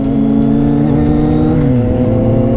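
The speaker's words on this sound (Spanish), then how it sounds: "la moto del Cookie es una Yamaha Tracer 900 GT" Engine of a Yamaha Tracer 900 GT, a 900 cc three-cylinder motorcycle, drones loud and steady while riding on the road, with a smooth pitch drop partway through as the revs ease off.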